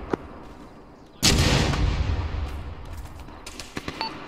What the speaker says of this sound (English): They are shooting mortars at us.